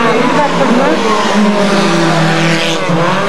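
A rally car roars past at the 1991 Villeneuve-sur-Lot auto race, its loud, continuous engine note shifting as it passes, with tyres faintly squealing and a commentator talking over it.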